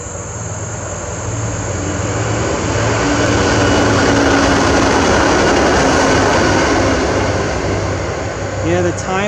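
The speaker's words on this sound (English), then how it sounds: "Here comes the train." A train passes near a bald eagle nest in New Jersey, giving a loud sustained rumble that swells and then slowly fades, with repeated rhythmic low thumps from the wheels.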